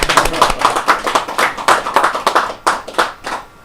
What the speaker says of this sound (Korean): 질문 없으면 열강해 주신 우리 이사님께 기쁜 박수로